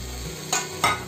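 Oil hits a hot kadai heating on a gas stove, giving two sharp bursts of sizzling, loud and close, each fading quickly over a low background hiss.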